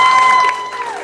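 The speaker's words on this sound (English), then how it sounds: "The entire place erupted in applause and thank yous" A restaurant crowd applauding and cheering for LA County firefighters at an In-N-Out Burger, a loud, dense wash of clapping that holds steady, then eases slightly toward the end.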